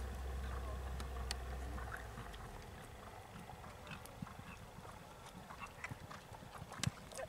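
A horse walks under a rider during a training session, its hooves landing in a steady, soft clip-clop close by, with faint rustling and background noise and no talking.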